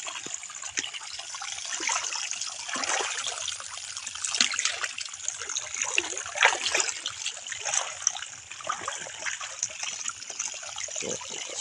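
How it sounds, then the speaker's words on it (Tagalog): Strong water rushes and trickles through an irrigation canal beside an ampalaya plot, a continuous close splashing gurgle with fluctuating surges, no one speaking. "Kasi malakas yung tubig na dumadaan dito."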